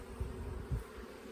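Honey bees in a top bar hive hum and buzz at close range as a comb is shaken, with a steady low drone and two brief louder swells of wing noise.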